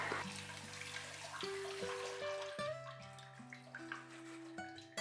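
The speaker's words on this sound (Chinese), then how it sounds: "这是我提前泡了1晚上的红豆，再将它简单清洗一下" Red beans soaked overnight are rinsed in water in a bowl, with steady splashing and swishing water close by through the whole stretch, and a sustained tonal layer underneath.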